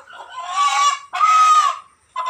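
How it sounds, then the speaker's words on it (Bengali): A local desi chicken just brought home. It gives two drawn-out, nasal squawking calls close by, one after the other, then a third call starts and is cut off. "দেশি মুরগি কিনে আনলাম"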